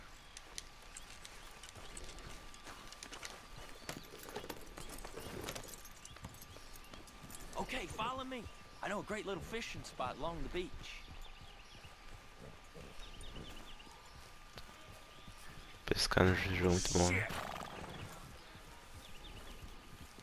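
Horse hooves clip-clop steadily in Red Dead Redemption 2 on the way to a beach fishing spot, soft and rhythmic under frequent talking, with a louder burst of sound near the end.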